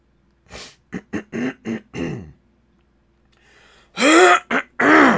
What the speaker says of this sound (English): While I clear my throat.